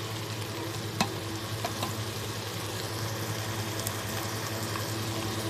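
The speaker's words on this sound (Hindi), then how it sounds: "तो अभी ये इसकी बुनाई हो रही है।" Green chilies, tomatoes and spices frying in a pan for a kaleji (liver) recipe, a steady close sizzle with faint stirring clicks and a low hum beneath, no voices.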